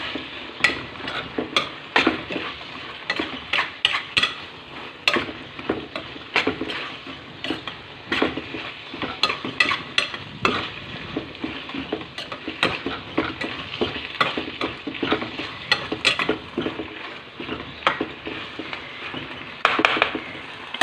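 Green capsicum pieces stirred and frying in a pan, a steady sizzle broken by frequent sharp scrapes and clinks of a spoon against the pan, close and alone with no talk.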